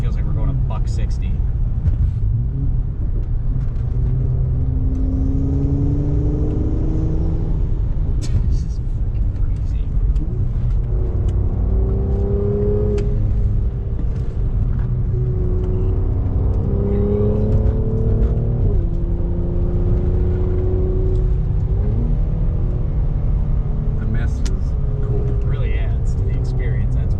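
A muscle car cruising at about 40 mph on a wet road, its engine droning and rising in pitch through gear changes under heavy tire and road rumble, with people talking inside throughout.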